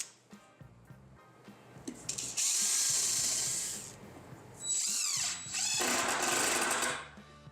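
A power drill with a countersink bit bores into a woodworking workstation in two loud, whining bursts, each lasting a couple of seconds, separated by a brief dip. Quieter workshop clatter comes before and after the bursts.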